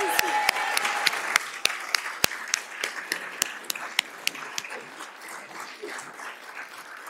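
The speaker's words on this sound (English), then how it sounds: "Can you give those ladies another round of applause?" A crowd claps steadily in lively applause, with sharp individual claps standing out at first before the clapping thins and fades.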